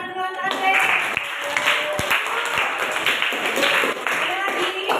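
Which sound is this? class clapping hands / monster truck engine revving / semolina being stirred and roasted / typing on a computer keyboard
class clapping hands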